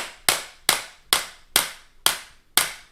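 Six sharp, evenly spaced clacks of trekking poles knocked together, each a crisp hard strike ringing briefly, close and loud with no talking.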